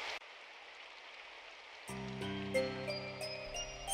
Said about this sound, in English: the droplets of rain falling on my body